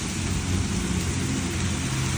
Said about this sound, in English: rain. It's just barreling down on us.